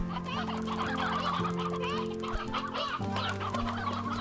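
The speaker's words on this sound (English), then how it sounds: "This is maybe too many chickens." Flock of chickens in the video game Slime Rancher 2 clucking and squawking continuously up close, layered over sustained background game music tones.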